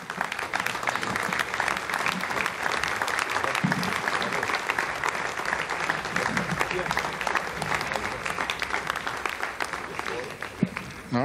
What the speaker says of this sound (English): you heard the applause and you see the smiles